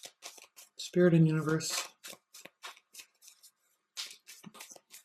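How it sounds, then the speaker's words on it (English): Tarot cards are shuffled and pulled in a series of quick, crisp riffling and flicking bursts, close up, with a brief spoken phrase in the middle. "Let's pull some outcome cards."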